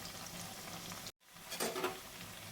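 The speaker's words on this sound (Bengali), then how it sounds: "এই দিকটাও ঠিক সেম একদম এভাবে লাল লাল করে একটু ভেজে নিতে হবে।" Lentil fritters (dal bora) fry in hot oil with a soft, continuous sizzle that cuts out briefly, then returns louder with stirring crackles.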